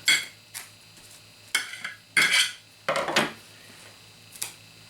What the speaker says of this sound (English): And let it stir and get in contact with the hot potatoes.